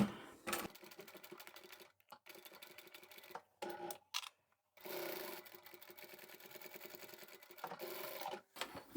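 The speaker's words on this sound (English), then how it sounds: "I'll come back to where I started and I can sew over that again" A sewing machine stitching fabric for a zippered bag, running in quick rhythmic bursts with short pauses between stitching runs, close and clear with no talk.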